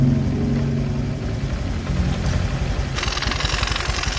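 A motorcycle engine idles steadily during an oil check after an overhaul, a close, continuous mechanical rumble with a slight change in tone partway through.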